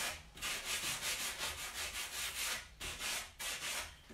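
A painted surface being distressed by hand-rubbing with sandpaper, rhythmic close scratchy strokes in quick bursts, briefly pausing twice, with no talk.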